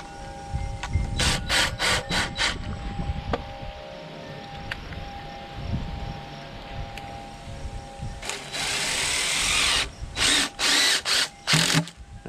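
A power drill drives screws into a wooden horizontal beehive, with short bursts of whirring near the start and a longer run followed by several quick pulses near the end, close and fairly loud over a quiet workshop background.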